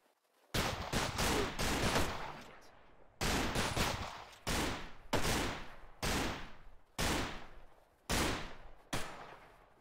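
Gunfire coming from all directions in the economic shooter Anarchy: Wolf's Law, a few heavy shots followed by loud irregular bursts and single cracks every second or so, each ringing out with a long echoing decay.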